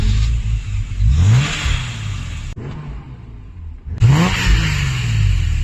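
The engine of a 1986 BMW M5 is revved hard twice, each burst climbing sharply in pitch and then falling away, loud and close, with a brief quiet gap between the two.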